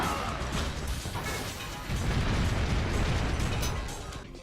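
Bomb explosion in the Ratchet and Clank video game, a dense crashing blast with popping debris and rumbling that swells and then fades over a few seconds.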